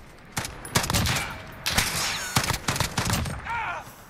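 An FAL OSW rifle firing 7.62x51 NATO rounds in Call of Duty: Modern Warfare, with a series of loud, punchy shots in quick bursts and short gaps between volleys.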